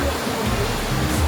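Majayjay Falls in Laguna pours with a steady, loud roar of rushing water, a dense unbroken wash of white noise filling the whole moment with no pauses.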